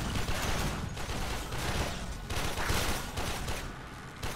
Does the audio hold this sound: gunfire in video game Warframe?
yes